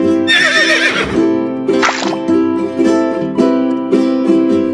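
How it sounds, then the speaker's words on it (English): A horse gives a loud, close whinny, a long shrill quavering neigh that falls away and then breaks into a series of shorter snorting pulses, with no talk. "the horse is a domesticated one-toed hoofed mammal"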